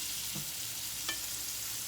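Cubed steak fries in a pan with a steady broadband sizzle, broken by two short, slightly louder crackles or stirring touches.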